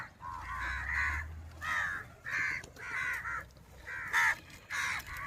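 Several crows caw in repeated bursts, loud and fairly close, with short pauses between calls over a low background rumble.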